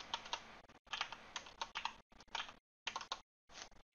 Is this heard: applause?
no